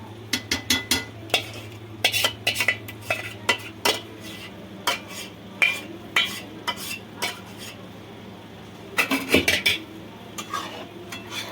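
A spoon stirs short pasta in thickened milk in a pot, tapping and scraping the metal in bursts of quick, irregular clinks, a pause mid-way, then another cluster of scrapes over a low steady hum.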